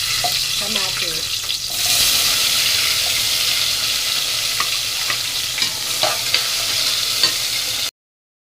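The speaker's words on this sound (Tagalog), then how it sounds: "Gigisa ko na yung bawang." Garlic, onion and tomato sautéing in a pan, a steady broadband sizzle with stirring scrapes and clinks running throughout, fairly close and loud with no talking, cutting off abruptly near the end.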